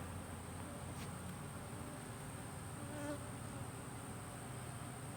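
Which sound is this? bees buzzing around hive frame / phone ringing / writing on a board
bees buzzing around hive frame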